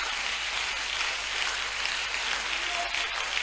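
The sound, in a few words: congregation applauding and cheering at evangelism crusade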